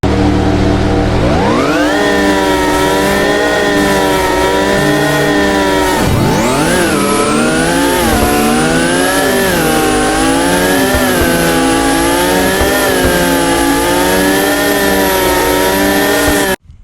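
Mercedes-Benz CLK and CLK GTR race cars in a video game, engines revving hard and climbing through gear changes with whining harmonics, loud and continuous, then cutting off abruptly at the end.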